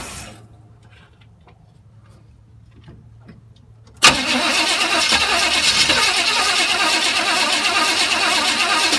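After about four seconds of near silence with faint background sounds, a Chevrolet Chevelle engine cranks as the key is turned. A loud, steady grinding whir then continues, close and unbroken.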